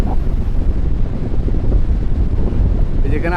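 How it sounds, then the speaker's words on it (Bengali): A strong sea wind buffets the microphone on the beach at Cox's Bazar in the late afternoon, with big waves breaking nearby. The gusts make a loud, continuous low rumble and roar that fills the whole stretch. "প্রচুর বাতাস, কিন্তু প্রচুর বাতাস।"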